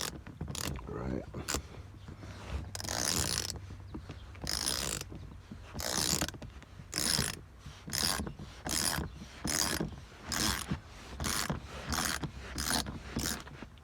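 A ratchet tightening a large bolt during a 2006-2012 Honda CR-V folding armrest cover replacement, with bursts of rapid clicking that come in regular strokes, close and fairly loud, and no talk.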